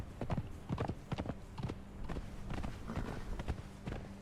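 Horse hoofbeats in Conan Exiles, a steady clip-clop of several clear, close strikes in an even trotting rhythm over a low background.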